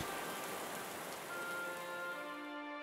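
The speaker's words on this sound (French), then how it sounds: "La pluie est tombée, les torrents sont venus, les vents ont soufflé" Continuous rain falls steadily as a sound effect in a Bible film, an even, dense hiss of drops with soft sustained musical tones drifting underneath.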